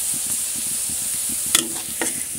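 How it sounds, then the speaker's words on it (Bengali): Greens frying in a pan, a steady close hiss of oil with soft rhythmic stirring taps and two sharper spatula knocks toward the end. "সুন্দর করে লাল লাল করে ভেজে নিব, এর মধ্যে শাকগুলো দিয়ে দেবো।"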